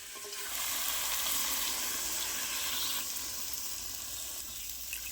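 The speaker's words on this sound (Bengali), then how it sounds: "এবার আমি পরিমাণ মতো জল দিয়ে দেবো" Water pours into a pan of frying mutton liver and potatoes cooked down with spices, a steady hissing sizzle and rushing flow that swells loud, then eases into a softer bubbling simmer.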